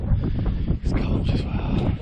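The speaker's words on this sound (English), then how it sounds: "You probably can't hear me because it's so windy" Strong, cold wind buffets the microphone on an outdoor walk, producing a loud, continuous low rumble with gusty surges throughout.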